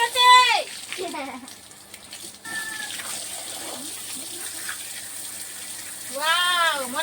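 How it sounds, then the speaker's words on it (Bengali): Water is poured over a pet bird during its bath, a steady splashing gush running under squawking, warbling calls near the start and end, with a person talking nearby. "দেখো এবার চান করাবো মিঠুকে"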